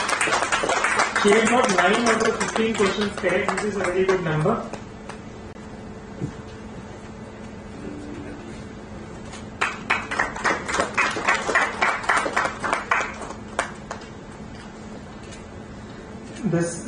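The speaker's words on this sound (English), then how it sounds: "Congratulations, I think you should applaud." An audience at a severe asthma summit in Hyderabad applauds a quiz prize winner with a burst of scattered clapping. It comes after someone speaks over a microphone and before a pause.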